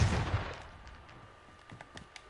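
A single loud sniper-rifle shot in a video game opens with a heavy boom that decays into a rumbling tail, followed by faint scattered clicks and distant pops.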